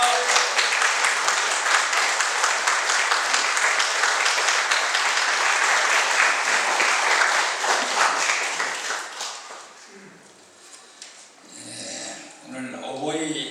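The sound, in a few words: church congregation applause welcoming the pastor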